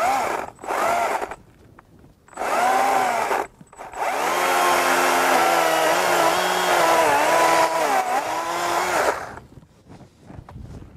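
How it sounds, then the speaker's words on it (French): Chainsaw cutting through a pollarded tree during pruning, close and loud, with two short bursts and then a long sustained cutting run of several seconds, engine pitch wavering as it bites into the wood, before dropping away to quiet. "Je vais redonner un coup de tronçonneuse."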